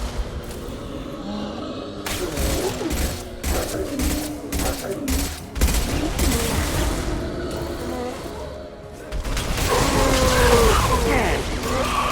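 Bursts of rapid sci-fi gunfire in the Mass Effect 2 video game crackle in a fusillade over a low rumble, joined by booms and a mechanical whine, with voices speaking amid the combat.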